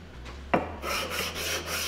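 A file rasps across a small high spot on a knife guard, smoothing it down: one sharp scrape followed by a steady, close run of strokes with no talking.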